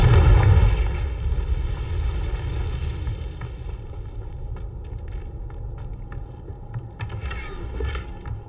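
A Confringo fire spell explosion in Hogwarts Legacy bursts loudly at the start, then settles into a sustained rumbling crackle with a steady tonal hum and scattered sharp snaps.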